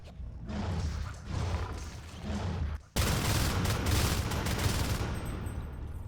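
Shotgun gunfire fills a competitive video game match in a silo area, with dense, rapid volleys of shots, a brief lull and then a louder sustained burst, heard close and without talk.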